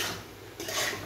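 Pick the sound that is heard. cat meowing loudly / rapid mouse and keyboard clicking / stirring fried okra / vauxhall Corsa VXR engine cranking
stirring fried okra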